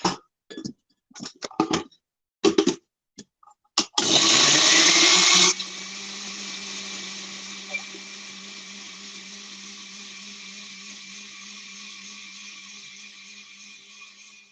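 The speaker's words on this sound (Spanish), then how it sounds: "aquí voy a licuar en estos momentos" A kitchen blender purées a tomato-style sauce thinned with a little water, starting with short bursts, then a loud high-speed whir that settles into a steady, slightly lower blending drone that runs on alone.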